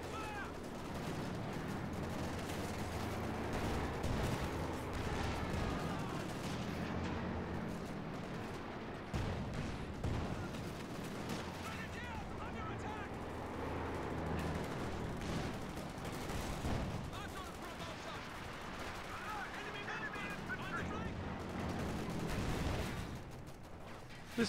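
Heavy gunfire and machine-gun bursts from a World War II strategy game battle with Ranger squads, a steady dense barrage of shots and explosions running continuously throughout.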